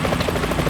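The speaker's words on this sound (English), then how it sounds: "Is that a chopper I just heard?" Helicopter rotor from the Metal Gear Solid 2 video game, a steady thrumming chop that stays loud and close throughout the short burst, with no voices over it.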